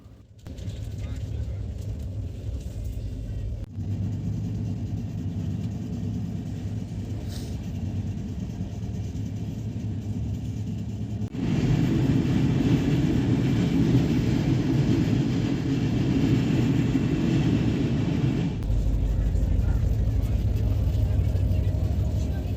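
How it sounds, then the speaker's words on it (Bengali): Howrah–SMVT Bengaluru Express rolling into Vizianagaram Junction, a steady low rumble of wheels and coach noise heard from inside the train, growing louder midway, with a voice speaking over it. "ট্রেন এখন এসে পৌঁছালো এই ট্রেনের 14 নম্বর হল্ট অর্থাৎ বিজয়নগরম জাংশন স্টেশনে"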